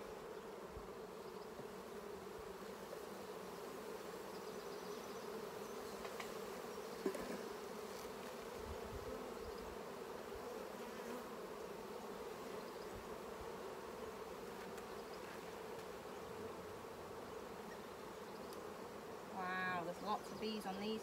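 Honeybees hum in a dense, continuous drone as hive frames are lifted during an inspection, quiet and close, with soft handling knocks and a brief voice near the end.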